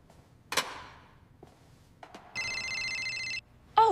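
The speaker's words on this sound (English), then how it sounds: "Oh, my work phone is ringing." A work phone rings at home: a steady electronic ringtone with a bright, tonal repeating pattern lasting about a second, framed by soft household knocks and clatter before it and a sharp bump just after.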